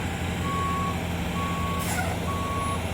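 A concrete truck backs toward a basement floor pour, its reversing alarm sounding three evenly spaced beeps over a steady engine rumble, with a brief rattle near the end.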